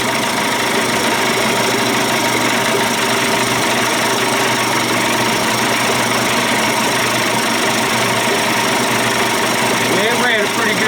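A Johnson Evinrude outboard motor in the 25 to 35 hp range, converted and with a fuel pump that is not drawing gas fully, runs steadily at close range with a continuous loud drone and no break.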